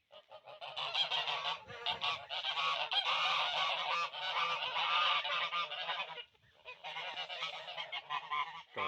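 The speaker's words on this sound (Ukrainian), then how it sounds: "Того гусю відганяють, я так поняв." A flock of geese honks loudly and continuously close by, a brief lull near the end before the honking resumes.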